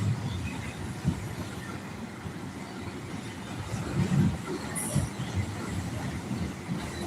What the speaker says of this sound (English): Nope, that is the Biden train.